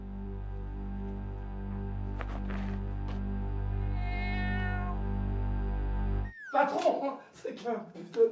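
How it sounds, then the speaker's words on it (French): A cat gives a sudden loud meow that rises sharply after a long stretch of steady low humming and faint tones, then scuffling and louder noises follow close by. "c'est qu'un putain de chat."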